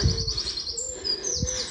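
Birds sing in clear, repeated chirps and whistles close by, with a soft cooing note underneath and a quiet outdoor hush.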